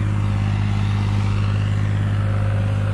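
New Holland 3630 tractor engine running steadily at a constant idle, a loud close low diesel hum with a strong steady drone and no talk.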